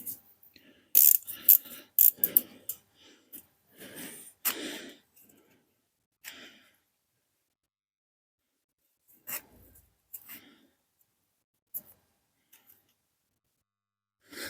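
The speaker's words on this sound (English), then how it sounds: "The next thing you do is you remove the drain plug, which is on the bottom of the gearbox." A ratchet wrench works the drain plug loose on the bottom of a scooter gearbox, giving scattered close clicks and metallic clanks in short bursts with pauses between them. No one speaks.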